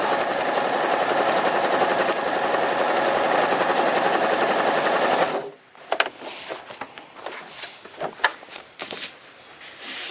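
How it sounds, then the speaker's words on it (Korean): An Elna 2600/2800 sewing machine runs loud and steady for about five seconds, then cuts off into a sparse string of clicks and mechanical knocks from lever handling and stitching back and forth. "중간 부분에 옷이나든가 여러 부분에 강도를 주거나 튼튼하게 박아야 되는 부분이 있으면 재봉 중에 여러 번 눌러서 튼튼하게 박을 수가 있습니다."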